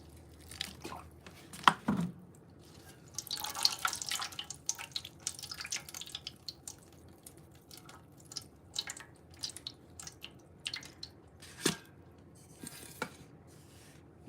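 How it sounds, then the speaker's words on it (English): Water drips and splashes while a houseplant is watered indoors, a series of short, irregular wet taps and trickles with faint clinks of a container, close by and fairly quiet, with no talking. "give it some water."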